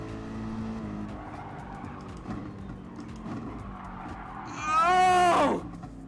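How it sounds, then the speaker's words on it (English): Race car tires skidding and squealing through a corner in the Gran Turismo Sport racing game, a loud screech of about a second rising out of steady engine drone near the end. "A car cannot slide through the corner."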